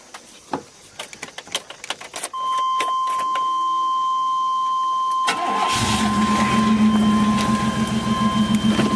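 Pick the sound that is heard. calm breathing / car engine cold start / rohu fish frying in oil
car engine cold start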